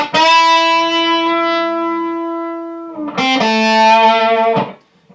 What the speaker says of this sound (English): the sustain builds, the compression of the amp builds up